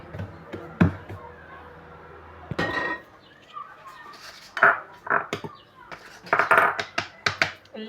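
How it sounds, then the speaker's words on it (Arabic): A knife cuts through soft brioche bread dough, making quiet scattered taps and clinks on a work surface, irregular and close, with occasional soft handling noises. "ودرك نبدا نقطع في الخبز نتاعي."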